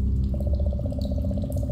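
Sloshing, watery ambience in a dark pipe tunnel from the Goosebumps game, with low murky rumble and a steady train of soft repeated drips or sloshes pulsing alongside, no voices.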